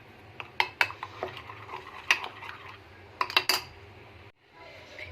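A spoon clinks and scrapes around a bowl while chickpea chaat is mixed with salt, chaat masala and black pepper. The taps are sharp, irregular and close-up over a low background hum, ending in a brief pause.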